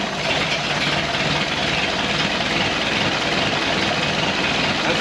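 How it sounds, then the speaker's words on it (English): A Super Winfield car engine runs steadily just after a cold start, following slow cranking on freshly cleaned battery cables; a dense, continuous rumble with a broad hiss holds at an even level throughout, with no voices. "Cold start."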